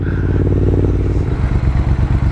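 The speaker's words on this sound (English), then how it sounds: "Oh, listen to that exhaust." A Triumph Thruxton RS motorcycle exhaust rumbles loudly and close, a deep steady throb that turns choppier as the engine note shifts.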